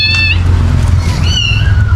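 Cats meow in a cemetery, two or three clear rising calls standing out over a steady low hum, fairly close, with no talking.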